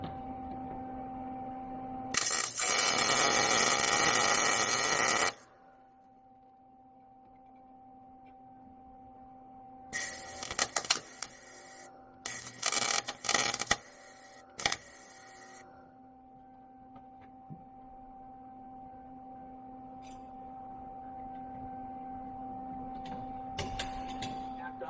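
Welding a washer onto a broken exhaust manifold stud: a loud, steady crackling burst of about three seconds, then a quiet steady hum, then a cluster of short sputtering bursts, all close by.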